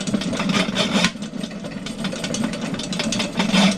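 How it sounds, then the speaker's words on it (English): A small engine drives a drain-cleaning auger through a French drain cleanout in tight quarters, chugging in a steady, close, unbroken rumble throughout, with no speech. "This is some tight quarters, so this auger does not come with automatic feed,"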